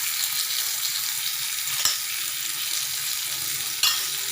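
Elephant yam (karunakizhangu) pieces frying in plenty of oil on a low flame, a steady close sizzle throughout with two brief sharp crackles partway through, no talk.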